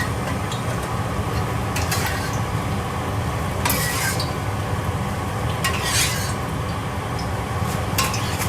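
Egg frying in a pan, a steady close sizzle and crackle running continuously, with a few brief sharper bursts of spattering or utensil scraping rising above it at intervals.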